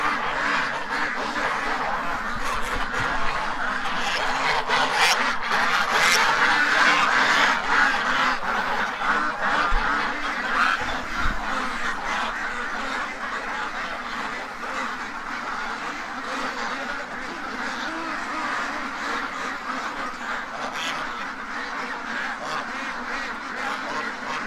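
A flock of ducks in a yard quacks and honks continuously, many overlapping calls close by, loud and busy without a break.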